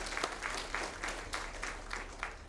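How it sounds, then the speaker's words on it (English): A town hall audience gives a moderate round of applause, rhythmic clapping from a modest crowd that stays fairly even throughout with a faint murmur beneath. "please give him a round of applause for bringing this idea to us"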